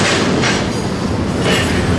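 A Union Pacific container freight train rolls past close by, a dense, steady roar of wheels and rumbling cars with faint rhythmic clatter, loud and continuous throughout.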